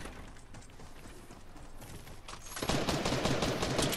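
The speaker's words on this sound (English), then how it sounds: "I'm getting shot at again." Gunfire in Fortnite rattles as steady, busy shooting that swells louder and denser toward the end, with no talking over it.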